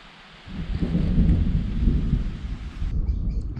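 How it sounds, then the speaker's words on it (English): Low, heavy thunder rolls through a storm for most of the stretch, swelling after a quiet start and fading near the end, with a soft hiss of rain or wind beneath it and no talking. "until that thunder passes,"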